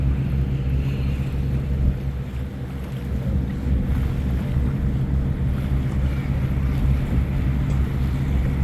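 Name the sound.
riverboat sailing on the water, Toronto harbour cruise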